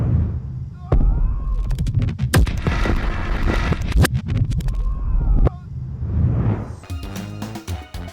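Bomb exploding in a Sonic the Hedgehog video game: loud booming blasts and crackling bursts in quick succession, up close and dominating, with game music and voices around them.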